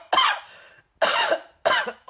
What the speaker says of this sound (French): je te fais participer à ma tousserie